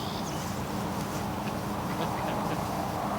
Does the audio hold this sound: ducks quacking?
yes